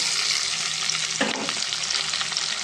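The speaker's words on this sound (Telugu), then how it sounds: "బాగా ఫ్రై అవ్వాలండి" Onion and curry leaves frying in a pan make a steady, close sizzle, with a brief stir around the middle adding a scraping burst before the crackle settles again.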